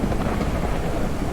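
Rain pours down in the video game Out Of Ore under a low thunder rumble, a dense, loud, steady wash of noise with no breaks.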